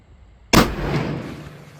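A single loud, sharp gunshot from an ORSIS T-5000 rifle on a monopod cracks out after a brief quiet, followed by a fading rumble of echo.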